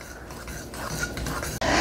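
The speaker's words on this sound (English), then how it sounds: "I'm going to go ahead and add that in there, and we are going to go ahead and mix this in" A spoon scrapes and stirs salt and granulated cane sugar into a dry flour mixture in a bowl, a close, steady gritty rubbing with light clinks and no talking.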